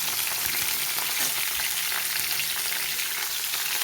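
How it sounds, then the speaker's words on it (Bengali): Panch phoron spices frying in hot oil while being stirred, for a poppy-seed stalk dish; a dense, steady sizzle with faint scraping stirs, close and loud throughout with no talk. "এবার তেলের সাথে ভালো করে পাঁচফোড়নের সাথে মিক্স করে নিতে হবে"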